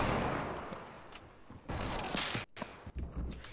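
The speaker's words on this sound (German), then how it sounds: "Digga, von wo kommen diese Schüsse?" Gunshots in the video game Fortnite, heard as a handful of loud cracks and short bursts scattered over a few seconds amid a noisy rush of battle sound.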